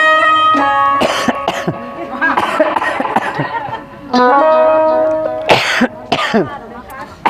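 A few harsh coughs break through over background music, with a loud burst of coughing near the end among sung or spoken voices during a Bhagavat Katha devotional recitation.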